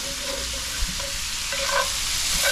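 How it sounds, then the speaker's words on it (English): Chanterelle mushrooms and venison browning in a pan give off a loud, steady sizzle that runs unbroken from start to finish, with a small clink of a utensil partway through. "we are going to brown this all down"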